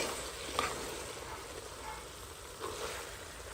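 Cabbage stewing in its own juice with no added water in a home kitchen, giving a steady soft sizzle with faint bubbling pops, fairly quiet and close.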